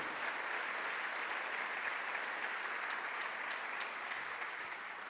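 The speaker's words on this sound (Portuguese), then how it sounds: "Vamos aplaudir ao Rei da Glória." A church congregation applauds steadily throughout, a dense and moderately distant clapping that holds even for about five seconds with no voices rising above it.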